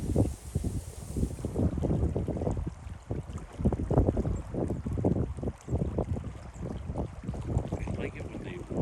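Wind blows outdoors at a nature center by the water. Gusty rumble and buffeting hit the microphone throughout, with voices talking quietly underneath.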